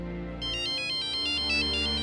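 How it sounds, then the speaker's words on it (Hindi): A phone ringtone chimes in a repeating electronic pattern while a call is being placed, clear and close over a low background hum, with no voices. "फोन कर लेती हूँ."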